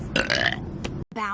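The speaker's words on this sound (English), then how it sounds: "You burped through the dialogue!" A cartoon female character lets out a loud, close burp lasting about a second, followed right after by a brief voice.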